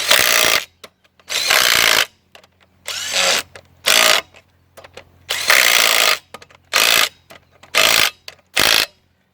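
A wrench works the bolts of a stuck car wheel in a series of loud, close mechanical whirring bursts, about nine of them, each lasting under a second with short quiet gaps between.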